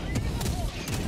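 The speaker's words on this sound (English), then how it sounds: "take them out, mortars" Mortar fire in a sci-fi combat video game: heavy, booming blasts thud in quick succession, loud and close, with layered low rumbling explosions filling the moment.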